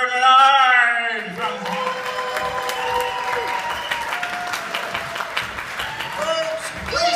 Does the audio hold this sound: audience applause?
yes